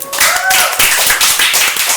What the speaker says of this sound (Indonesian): Tepuk tangan dong untuk Bu Rose.